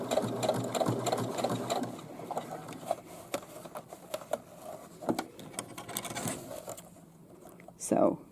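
A sewing machine topstitches straps onto a bag, running in a close, steady chatter of stitches with short pauses and a louder burst near the end.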